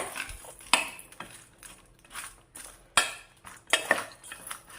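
Bitter gourd pieces tossed with salt and turmeric in a bowl, giving a close run of irregular clinks and scrapes of a utensil against the dish with soft rustling between the hits.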